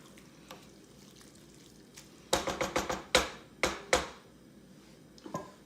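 A spoon stirs milk into a French Canadian creton mixture of ground meat, clinking against the pot in a quick run of close, crisp taps over a soft background hiss.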